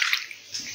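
Water is poured into an inverter battery in a brief, close splashing trickle that lasts under a second, with no one speaking.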